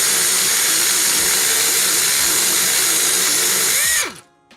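A 17 mm socket wrench removes a car's tie rod with a loud, steady mechanical whir for about four seconds, then stops abruptly and leaves a short, faint tail.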